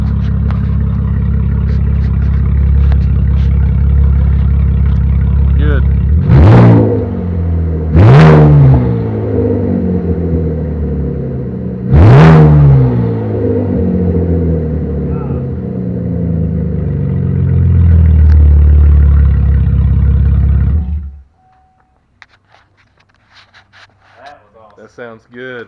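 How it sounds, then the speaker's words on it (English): A Chevrolet Camaro with a loud exhaust idles with a deep, rumbling burble, then is blipped through three sharp revs that rise and quickly fall back. The engine shuts off abruptly near the end, leaving quiet background. "I'm gonna do some revs."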